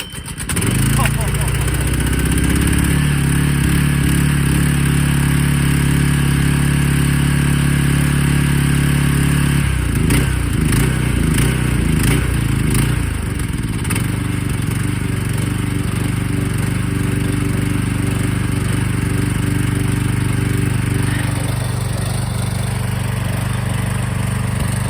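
A Honda HS622 tracked snowblower engine cold starts and runs nearby, a loud steady small-engine chug that roughens and sputters midway before settling back to an even idle, with brief talk over it.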